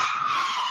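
A speeding car racing down 22nd Street near Pennsylvania Avenue, caught on a doorbell camera, lets out one brief sustained tire skid, a loud squealing screech with no voices.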